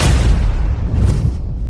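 Explosion effect for cargo ships blowing up in a drama: a loud, dense boom that rumbles heavily in the lows for nearly two seconds, with no voices over it.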